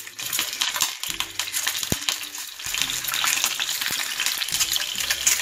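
Eggs fry in hot oil in a pan that is being shaken, a loud, bright, crackling sizzle with bubbling and splashy surges, plus a couple of sharp metallic clinks, close and without talk.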